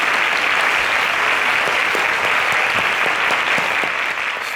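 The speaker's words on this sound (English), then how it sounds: "Please a round of applause for them as they exit the stage." A studio audience applauds semi-final contestants leaving the stage of a Nigerian quiz show, with loud, even clapping sustained throughout.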